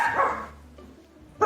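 A voice imitates a dog, giving a short run of barking yaps followed by one sharp bark at the end, close and alone.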